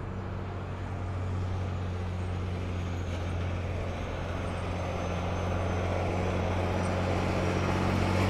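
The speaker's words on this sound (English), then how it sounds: "This is one of the chicken buses of Bolivia." An old Dodge Ram school bus serving as a Bolivian chicken bus rumbles with a steady low engine drone and broad road noise, moderately loud and continuous throughout, with no voices.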